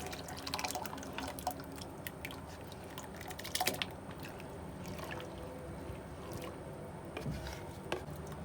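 Soaked rice is poured little by little into hot milk for kheer while being stirred, giving soft wet drips, squelches and occasional clinks, close and quiet with no talk.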